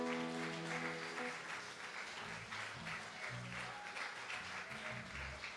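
A church congregation applauds together in a sustained, even clatter of many hands, with music or held tones underneath, moderately distant and steady throughout.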